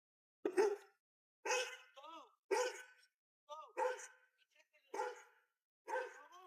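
A dog in a yard barks repeatedly in sharp, evenly spaced bursts, about seven barks with short whines in between, clear and fairly close against a quiet background.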